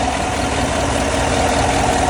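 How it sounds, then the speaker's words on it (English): A 2018 Chevrolet Silverado Z71 truck engine idles close by, a steady loud rumbling drone with even low vibration and no changes in pitch, heard alone. "These engines always come up pretty good, and it shifted fine."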